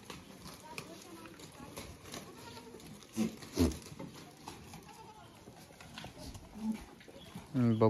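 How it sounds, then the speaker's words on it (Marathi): Osmanabadi goats on a farm bleat in a few short calls against low barnyard noise and shuffling hooves, with a louder bleat near the end. "बघू शकता उस्मानाबादीचा बोकड पण आहे, एक आदतमध्ये बोकड आहे हा।"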